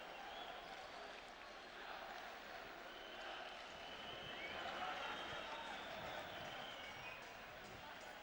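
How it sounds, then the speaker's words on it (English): Basketball arena crowd at a 1998 FIBA World Cup game between Yugoslavia and Greece, fans chanting Hellas for Greece, a distant, faint, continuous roar of voices throughout. "the crowd is going absolutely berserk, chanting Hellas, Hellas"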